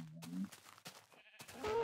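Low, drawn-out moo of a Minecraft cow at close range, a brief bleating animal call repeated a couple of times over ambient game sounds and a man's quiet speech.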